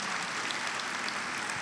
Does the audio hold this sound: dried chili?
no